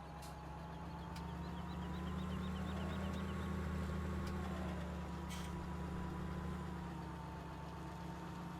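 A tractor engine in Farming Simulator 17 straining while stuck without traction under a trailer, a steady low drone with a wavering mid tone and a few faint clicks, no voices.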